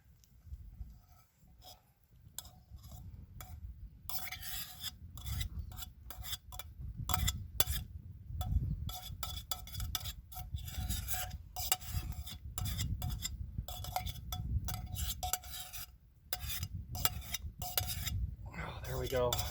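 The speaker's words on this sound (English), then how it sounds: "Scrape the rest of those veggies down in there." A spoon scrapes cooked vegetables down into a pot on a backpacking stove, with repeated close scratching and clinking of metal over a low steady rumble, mostly without speech.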